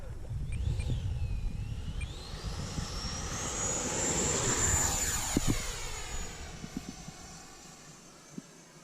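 An Arrows RC Marlin electric ducted fan model jet flies past with a steady rising and falling whine that swells as it nears, peaks overhead and fades as it moves away, fairly loud against outdoor wind.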